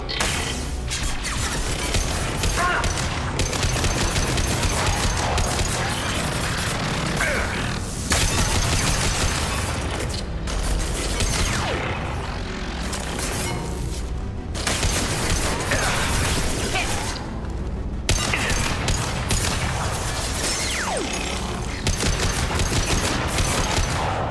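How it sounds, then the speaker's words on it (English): Gunfire rattles in the video game Mass Effect 2, with repeated bursts and sustained volleys over a busy layer of game sound, dropping away briefly between exchanges. "Wait, somebody shot at him out of there."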